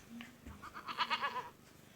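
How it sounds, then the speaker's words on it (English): Goat bleating in a short series of wavering cries, moderately near but fairly quiet against a soft background. "Goat."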